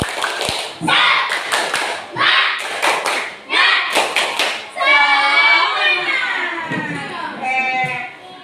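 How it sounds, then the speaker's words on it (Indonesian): A classroom of pupils does a rhythmic spirit clap in bursts of sharp, grouped claps with thumps, followed by children's voices chanting together up close. "Tepuk semangat."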